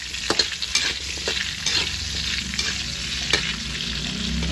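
Annatto seeds sizzle in hot oil in a pan, giving a steady, close frying hiss with occasional stirring clicks and scrapes throughout.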